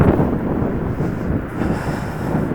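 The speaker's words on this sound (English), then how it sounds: "it's quite windy" Strong wind buffeting a microphone outdoors in the mountains of Aqeeq Valley near Madinah, a steady loud low roar of gusts throughout with no voices.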